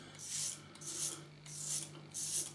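A Leaf Razor safety razor pressed firmly against the skin makes close, raspy scraping strokes, four short rhythmic passes with brief pauses between them.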